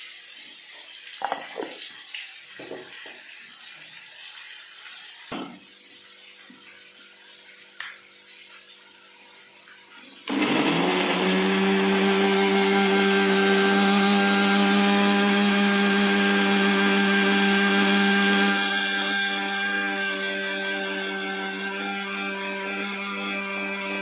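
Electric mixer grinder blending chopped spices into a paste for a home lunch, starting with a loud whirring roar about halfway through and running steadily to the end after a few quiet clatters of kitchen prep.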